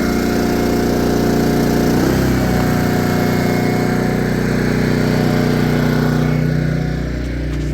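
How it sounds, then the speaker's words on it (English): Honda GX powered Kodiak SGA2800HX brushless portable generator engine running, a loud, close, continuous drone with a steady pitch that wavers slightly midway and softens a little near the end. "That's a brushless generator"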